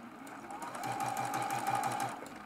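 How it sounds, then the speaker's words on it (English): A Juki sewing machine runs in a quick, even stitching rhythm, close and moderately loud, its motor hum steady beneath rapid repeated needle taps. "Doesn't my sewing machine sound so much better this week?"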